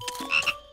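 A single frog croaks in a garden, a short close, clear call with a brief second burst at the end, alone without talk.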